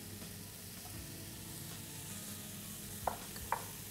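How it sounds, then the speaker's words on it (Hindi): Prawns fry over high heat in a pan with onion, garlic and green onion, giving a faint steady sizzle with a couple of brief stirring clicks near the end. "अब इसमें हम डाल देते हैं ये प्रॉन्स और एकदम हाई हीट पे इसे पकाना है"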